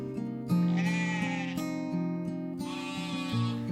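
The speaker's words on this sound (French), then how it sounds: "arrivent dans le village des moutons et des chèvres accompagnés de leurs bergers" Sheep and goats arriving in a village with their shepherds, long wavering bleats in a few separate calls over a sustained tonal musical backdrop.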